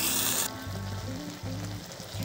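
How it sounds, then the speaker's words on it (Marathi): Spinach leaves boiling in a pot of water on a stove, a steady low bubbling simmer lasting a couple of seconds, fairly quiet and with no voices. "आता ह्या आपल्या पालकला उकळी आली"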